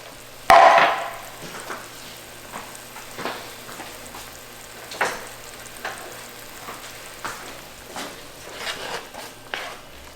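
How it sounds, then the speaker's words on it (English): Apple pieces cooking down in a pan with honey and brown sugar, giving a continuous close sizzle and bubbling broken by occasional scrapes and stirring knocks. "Just basically going to try to cook these apples down where they're nice and soft."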